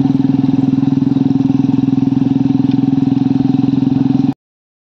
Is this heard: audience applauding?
no